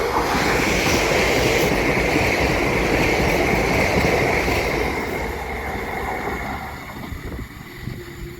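A five-car passenger train from London Liverpool Street to Clacton on Sea rumbles loudly through Great Bentley station in Essex, a steady roar of wheels and rail noise with wind buffeting the microphone, fading somewhat as it moves away.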